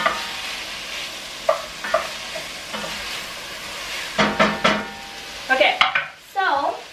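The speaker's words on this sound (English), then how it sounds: "Gonna mix it up, and we're just gonna wait till it starts to brown." Seasoned chicken browning in a pot is stirred with a utensil, giving a steady sizzle under a series of scraping, clinking strokes that grow busier and louder toward the end, with no talking.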